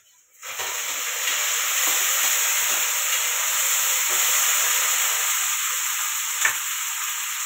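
Curry leaves, onion and coriander frying in a pan, a steady close sizzle and hiss that starts abruptly and holds loud and even throughout, with a brief clink near the end and no talking.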